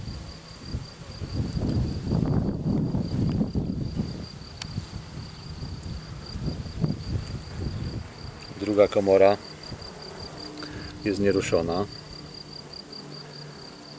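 Honey bees humming around a queen cage inside an opened hive, a steady close buzz with a few brief louder passes, while someone speaks Polish.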